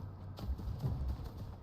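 Hooves of a big goat running in the video game Enshrouded, a quick run of soft, low thuds at moderate distance.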